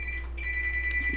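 A telephone rings steadily with a sustained electronic tone over a low background hum, heard alone with no talk.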